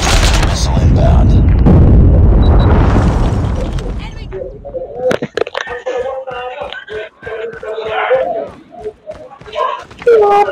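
In a video game, a missile explosion erupts as a loud, broad roaring blast that swells and fades over about four seconds, followed by game voices talking close up.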